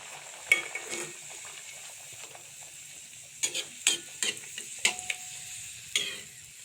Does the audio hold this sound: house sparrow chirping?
no